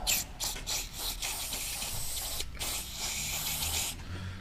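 Steady hissing aerosol spray, close up, with a few short bursts and pauses before a long continuous blast.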